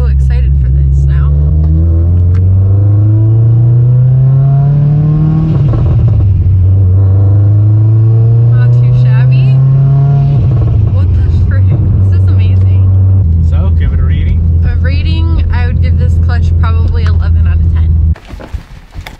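A 500 WHP Subaru STi with a twin-disk clutch drives and revs, its engine note climbing and falling in steady, loud sweeps that run under continuous talk before cutting off near the end.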